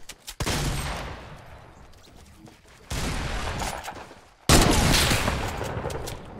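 Shotgun fire in the Fortnite video game: three loud, sharp blasts, each followed by a long ringing decay, spaced roughly every one and a half to two seconds.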